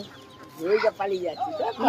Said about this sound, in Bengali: ছোট মুরগির বাচ্চা